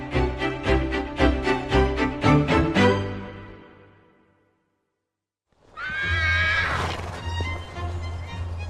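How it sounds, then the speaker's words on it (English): Near, loud horse neighing from racehorses at morning exercise on a winter estate, a long rhythmic whinny that fades to silence, then a second strong whinny after a pause. "3 of the Queen's 35 active racehorses are having their morning exercise"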